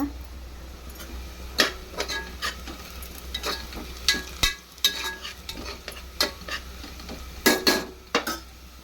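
Onions browning in a pan for egg biryani, with a steady sizzle and irregular clinks and scrapes as a spoon stirs against the metal, close and fairly loud, with no voices.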